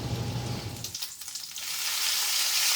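Food frying in a pan, a hissing sizzle that swells louder and brighter toward the end, with a low hum fading out early.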